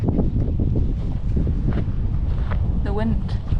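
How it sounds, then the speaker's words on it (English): Wind buffets the microphone at a lookout near the edge at Doubtful Sound, New Zealand, making a steady low roar that fills the whole stretch, with faint voice-like sounds under it. "The wind, probably too windy."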